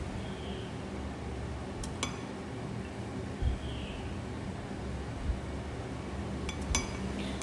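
A small spoon clinks against a glass of hot water being prepared as a homemade remedy, a few sharp isolated taps spread over steady low background noise, with no talking.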